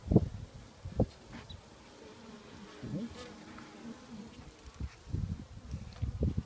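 Honey bees buzz around an open top-bar beehive during an inspection on a farm, a soft, close, wavering hum with individual bees droning past and occasional low thumps and handling noises.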